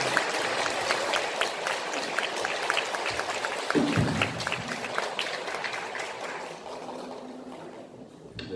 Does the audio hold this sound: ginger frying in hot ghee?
no